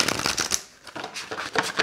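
A deck of oracle cards being shuffled by hand in bursts of dense papery riffling and slapping. A short quiet gap falls in the middle, and no one speaks.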